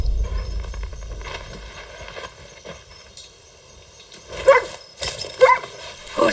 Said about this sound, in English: Who's a good dog, huh?